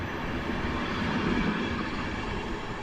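Winter train wagons rolling past at Warszawa Zachodnia station on a snowy day, a steady broadband rumble and rattle held at an even, fairly loud level throughout, with no voices.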